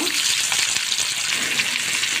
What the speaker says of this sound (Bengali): আগে ইলিশ মাছটা আমি আগে ভেজে নেই